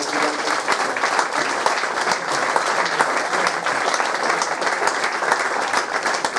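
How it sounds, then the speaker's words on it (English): A live audience at a Mansfield legends event breaks into loud, sustained applause, dense clapping filling the whole stretch at an even level with no voices on top. "I think that deserves a massive round of applause"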